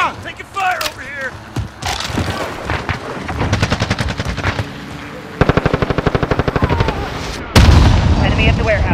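Automatic gunfire in a Call of Duty: Modern Warfare team deathmatch, with loud rapid bursts repeating over several seconds amid explosions and game effects, close and dense, with voices calling out between shots.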